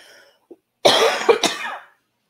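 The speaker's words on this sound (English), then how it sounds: "thanks again for putting up with my cough" A person coughs in a short, harsh burst of two or three close hacks, loud and near, after a brief quiet moment with a faint soft sound.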